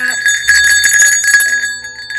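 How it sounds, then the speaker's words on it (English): Antique sleigh bells of several sizes, once mounted on a leather strap on a sled, jingling and ringing in a bright, continuous shimmer that fades toward the end; close and clear, no talking. "real sleigh bells that were on the sled"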